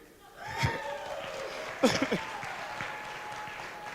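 An audience at a school meeting cheers and claps in a short, moderate burst. Scattered voices rise over the applause, then it settles into a lower murmur.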